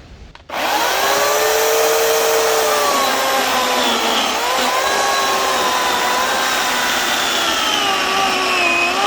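A WORX 16-inch electric chainsaw cuts through wood, its motor starting abruptly and then holding a loud, close whine with the pitch shifting as the chain bites into the log.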